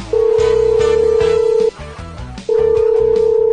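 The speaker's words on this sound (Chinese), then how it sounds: "打一个电话给一个朋友，连续问他五遍我是谁" A phone rings during an unanswered call, two long electronic ring tones separated by a brief pause, loud and clear with no talk over them.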